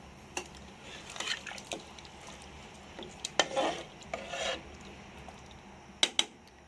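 Quiet scraping and stirring of a chicken feet curry in a pot, a few soft wet rubs and light clinks spaced out over a low background hum.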